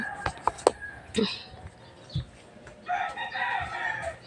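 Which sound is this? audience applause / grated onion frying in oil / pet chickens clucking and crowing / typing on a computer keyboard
pet chickens clucking and crowing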